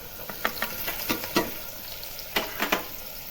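Mustard seeds and asafoetida crackle in hot oil, a faint steady sizzle broken by scattered sharp pops and spatters, with no talking.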